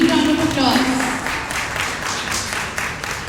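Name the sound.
audience applause at a conference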